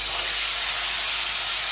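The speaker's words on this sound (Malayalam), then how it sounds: "ഇനി അതിനകത്തോട്ട് ചിക്കൻ ആഡ് ചെയ്യാം." Chicken hits hot olive oil in a frying pan, producing a loud, steady sizzling hiss that runs unbroken from start to finish, close up and without speech.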